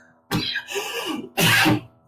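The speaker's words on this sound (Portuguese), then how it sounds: "até eu fiquei com tosse aqui, ó" A man coughs during a business lecture, two harsh, close bursts with a rough rasping tail after the first, loud and alone with no talk over them.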